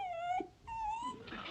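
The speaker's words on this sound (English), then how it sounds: "Sounds like Daisy Bell, the miller's dog." A dog gives two short, mournful howls, rising and wavering, fairly faint and distant.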